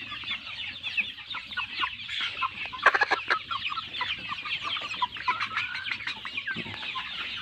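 A flock of farm chickens clucks and chatters continuously at close range, with overlapping calls and a few louder squawks over steady barnyard noise.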